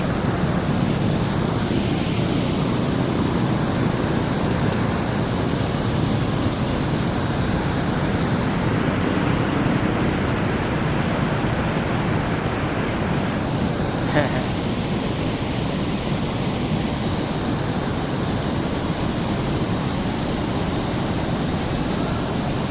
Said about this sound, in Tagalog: nakakarinig lang ng agos at tubig